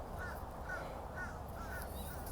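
A crow caws outdoors in a series of about five rhythmic, evenly spaced calls over a steady breezy background hiss, moderately distant.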